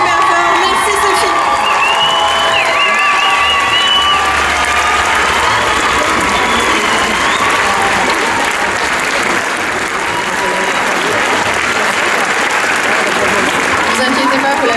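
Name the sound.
audience standing and applauding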